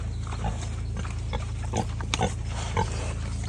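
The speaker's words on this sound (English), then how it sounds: "Who is that giant pig" A large farm pig grunting and snuffling close by in a series of short, irregular bursts over a steady low rumble.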